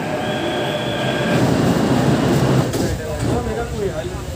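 A Delhi Metro train at Shahdara station rumbles loudly and close, with steady rolling noise, rising wheel screech and door sounds amid platform chatter.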